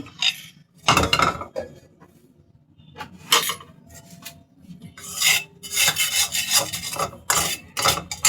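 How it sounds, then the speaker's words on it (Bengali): A metal wok is set back on a stove after frying prawn heads and legs, giving close scraping, rasping and clanking bursts of metal on metal, several loud separate knocks and rubs, no voices. "এবার কড়াইটি আমি আবার চুলাতে দিচ্ছি।"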